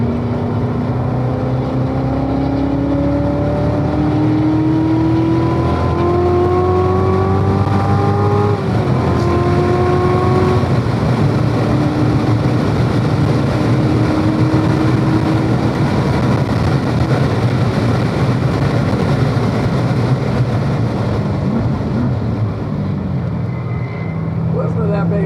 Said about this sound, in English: Listen to that baby. Go, station wagon, go!